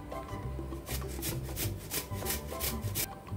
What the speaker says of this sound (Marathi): अगदी इझिली ही ओली हळद किसली जाते।